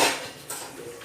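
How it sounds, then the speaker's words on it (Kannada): A tava pan set down on a stove with a little oil added, giving a short metallic clatter of cookware followed by faint scraping, close by with no talking. "ಇದೊಂದು ಪ್ಯಾನ್ ಇಟ್ಟಿದೆ ತವಾ ಅದಕ್ಕೆ ಸ್ವಲ್ಪ ಎಣ್ಣೆ ಹಾಕಿದೆ"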